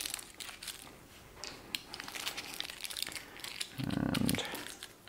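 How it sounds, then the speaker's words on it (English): Tin foil crumpled and pressed over the front of a red-filtered night vision torch, a close, crackly crinkling that runs throughout and swells into a louder crunch near the end. "I just put the tin foil over the top"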